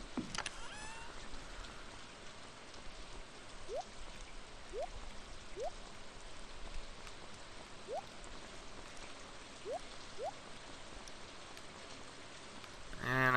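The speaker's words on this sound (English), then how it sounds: "Thank you, Rain, for watering my plants." Steady rain in the video game Stardew Valley patters continuously on surfaces, a dense even hiss with a few faint rising chirps scattered through it.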